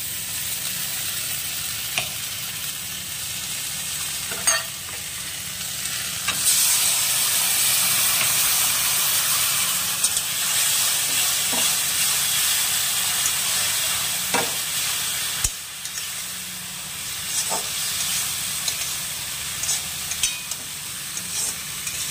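Drumstick stems stir-fried in a pan with mustard paste and green chili, a steady loud sizzle and hiss running throughout with occasional scrapes of stirring, no talking.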